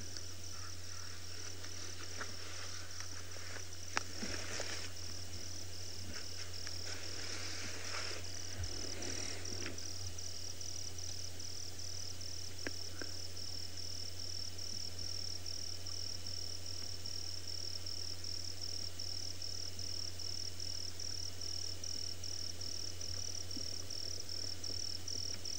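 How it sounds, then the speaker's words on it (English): Several kinds of crickets trill together at night beside a safari waterhole, a steady layered chorus with a few extra bursts of chirping early on. "Some different kinds of cricket sounds."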